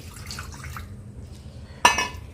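Tamarind water poured into a cooking pan for a curry lands as one short, bright splash near the end, after a stretch of quiet kitchen background.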